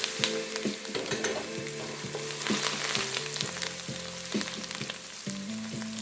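Garlic, ginger and onion frying in a pan for a spicy curry turkey masala, a lively sizzle broken by frequent scraping stirs and utensil clinks, close and fairly loud.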